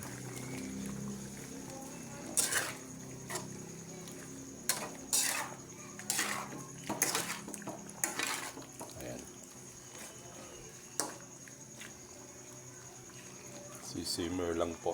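Pork minatamis stirred in a cooking pot gives repeated soft clacks and scrapes of a utensil against the pot, with a quiet simmering background and someone talking throughout.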